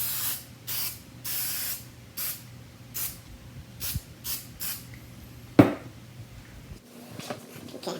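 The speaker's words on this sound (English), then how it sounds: "I'm gonna spray it again." A spray bottle mists cleaner onto scratched plastic in about ten quick, evenly spaced hissing squirts, close and fairly loud, followed by a brief rustle.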